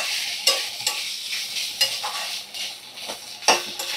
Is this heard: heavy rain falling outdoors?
no